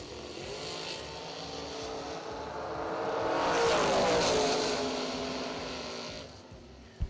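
Drag race cars, a Vega in the left lane and a Camaro Roadster in the right, roar down the strip, engine noise building to a loud peak mid-clip and fading as they pass, with a sharp bang at the very end.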